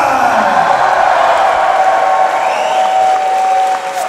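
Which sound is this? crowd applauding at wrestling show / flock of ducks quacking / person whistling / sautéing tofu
crowd applauding at wrestling show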